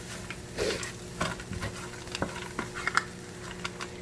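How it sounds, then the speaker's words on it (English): A spoon stirs frozen black-eyed peas and cabbage in a cooking pot, with scattered scraping and clinking knocks against the pot and a faint sizzle underneath, quiet and close. "Give it a good stir"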